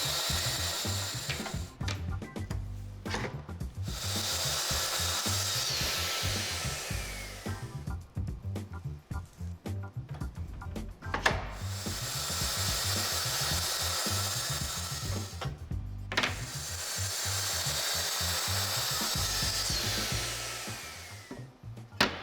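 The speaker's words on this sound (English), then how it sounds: "Now I have all the maple ripped down to size" A table saw rips maple boards in three long, loud passes, each a whining cut separated by short breaks where the motor keeps running.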